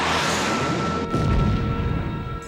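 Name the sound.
decoy being launched in an anime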